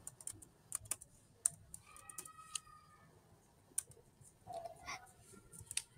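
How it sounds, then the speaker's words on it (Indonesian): Someone types a spreadsheet formula on a computer keyboard, producing sparse, quiet, close clicks in irregular bursts over a faint room background. "Di sini teman-teman bisa langsung saja ketik if error"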